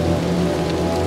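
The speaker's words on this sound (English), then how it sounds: "They probably damn near drowning in the rain." Rain in the Little Nightmares 2 game: a dense, loud, continuous patter of drops on surfaces over a low steady hum, with no voices.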